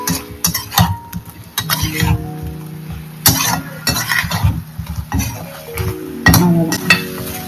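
Food is stirred and sautéed in a pan for a home-cooked summer dish, with repeated scraping and clinking of a utensil against the metal pan in irregular bursts over a soft sizzle.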